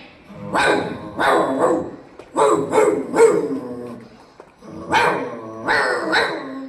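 Someone imitates a big dog barking, with gruff, throaty woofs in clusters of two or three and brief pauses between each group.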